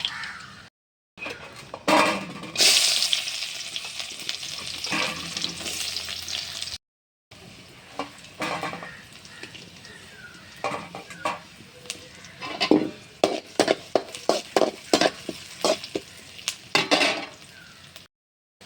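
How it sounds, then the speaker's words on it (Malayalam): Mustard seeds crackle and sizzle in hot oil in a pan, with bursts of popping and a few clinks of a utensil against the pan, broken by short silent gaps. "അപ്പോൾ കടുക് താളിക്കാനാണ് ഞാൻ എണ്ണ ഒഴിച്ചത്."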